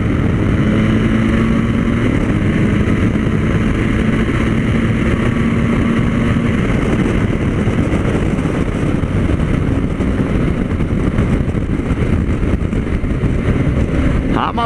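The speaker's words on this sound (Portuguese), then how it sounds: "O Thiaguinho já saiu acelerando ali igual um boi." A BMW R 1250 GS motorcycle engine roars steadily and loudly, its revving tone rising as the bike accelerates, with heavy rumbling noise throughout.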